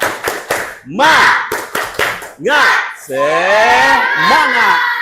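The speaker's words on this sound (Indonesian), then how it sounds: "ice breakingnya tepuk semangat" A class of students performs a rhythmic group clapping chant in a teacher's classroom: a counted beat of sharp, unison hand claps alternates with loud shouted chanting voices.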